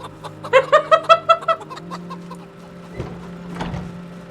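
A Kikuchi rooster in the Project Zomboid video game gives a quick run of about seven loud, evenly spaced clucks, followed by quieter ambient game sounds.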